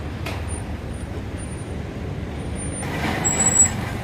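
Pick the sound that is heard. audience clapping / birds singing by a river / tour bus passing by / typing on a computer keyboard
tour bus passing by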